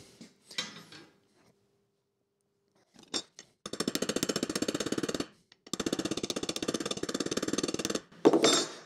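Metal being hammered to shape a Maserati seat frame, two long runs of rapid, even blows close by, separated by a short pause, with a few isolated taps before and louder knocks after.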